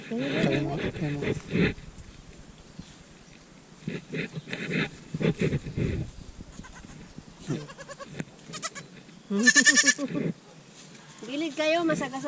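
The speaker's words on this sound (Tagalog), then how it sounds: "Ito ang kambing." Young goats bleat in repeated bursts, close and fairly loud, several calls spaced out between stretches of people talking nearby on a roadside.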